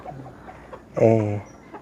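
A single chicken clucks loudly for about half a second, close by, amid quiet outdoor background with faint voices.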